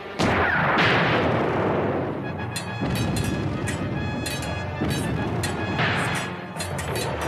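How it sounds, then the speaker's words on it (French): Loud, booming cannon blasts with rumbling echoes, several heavy bursts over a sustained roar of battle noise, no voices. "Pointez ce canon."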